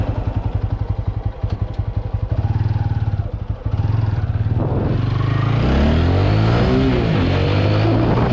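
A TVS Apache RTR 200 motorcycle engine runs steadily and loud throughout a ride, with a rumbling drone that climbs and falls in pitch as the rider accelerates and shifts through gears.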